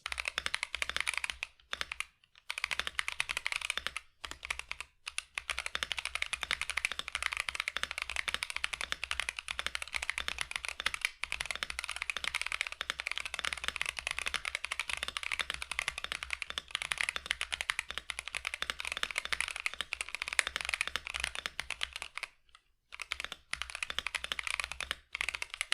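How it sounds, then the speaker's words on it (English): Continuous rapid typing on a home-built mechanical keyboard, dense clacking keystrokes heard close and steady for the whole stretch, with only a few brief pauses and no talking. "This is the keyboard I built, and I'll be leaving a sound test so you guys can hear how it sounds"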